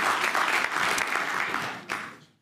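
Warm applause from a congress audience for a speaker, a steady wash of clapping that dips briefly, swells again and then fades out.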